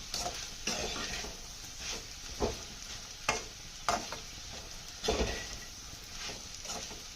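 A spoon stirs crispy green chilli and potato sabzi, seasoned with coriander powder and salt, in a pan. Irregular scrapes and taps sound close over a continuous low sizzle of frying, with no voices.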